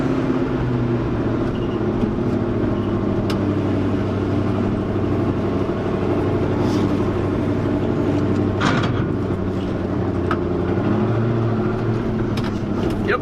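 A 1966 car, driven for the first time after sitting parked for over 33 years, drones along in low gear with a steady, loud, rumbling engine note heard from inside the cabin, plus a few faint creaks and knocks.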